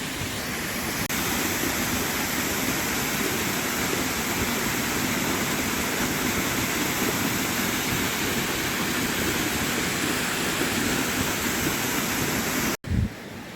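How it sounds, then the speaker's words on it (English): Twin Falls waterfall near Jasper, Arkansas, with water pouring off a rock ledge, a loud, constant roaring rush that runs unbroken for over twelve seconds with no voices, ending with a brief dropout and a bump. "Look at this rock ledge where the water comes out."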